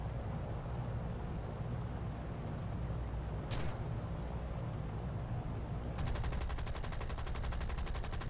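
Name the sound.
machine gun fire in naval convoy video game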